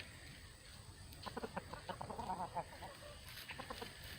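Rooster and hen clucking close by, a burst of quick rhythmic clucks from the rooster calling a hen over to a worm, with softer scattered clucks before and after.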